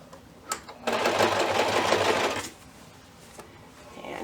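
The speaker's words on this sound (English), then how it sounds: "And then I'm going to start stitching." Sewing machine stitching bias tape binding onto a quilt-as-you-go table runner, a steady mechanical whir lasting under two seconds, preceded by a few faint clicks and followed by quiet handling.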